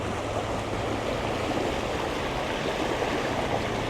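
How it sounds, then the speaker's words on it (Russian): Water rushes steadily along an irrigation canal (aryk) near Bishkek, a close, continuous burbling flow with no voices over it. "Вода бежит."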